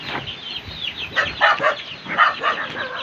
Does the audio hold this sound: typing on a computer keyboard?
no